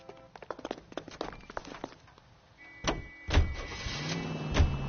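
A car door thuds shut in L.A. Noire, followed by a couple of heavier clunks and an engine starting and settling into a mid-pitched idle, after a run of brief clicks and rattles.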